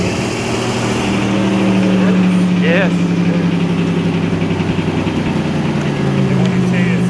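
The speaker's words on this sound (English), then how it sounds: "this is how it's going to sound with the 700 horsepower engine" A 1984 Buick Grand National with a 700 hp engine runs close by, its exhaust giving a steady low drone with a rough, throbbing idle. A brief spoken word and some talking sit over the engine.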